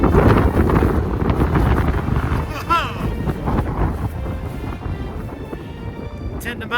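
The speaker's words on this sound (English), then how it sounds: "10 mile an hour gusts turned into 30 and 40 now" Strong wind gusts of 30 to 40 mph batter a winter mountain hike near a summit, roaring and buffeting loudly against the microphone in a constant rough rush with fluctuating surges.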